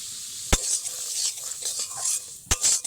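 Semolina roasting in white oil as it is stirred, soft crackling sizzle with two sharp scrapes of a utensil against the pan, close and without speech.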